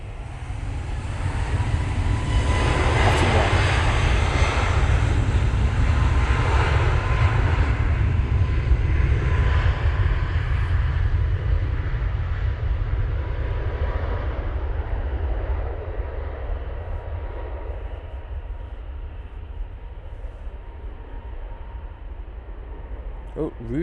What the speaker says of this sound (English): On final now we do have the Tui from Bridgetown.